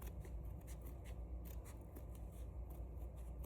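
Scissors snip away white material in a series of quick, faint crisp cuts repeating at an uneven rhythm over a low steady background hum.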